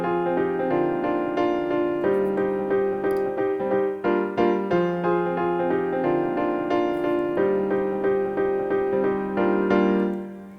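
Sustained piano chords from a Logic Pro remake of a song, notes ringing into one another in a full, steady progression, alone with no voices, fading out at the end.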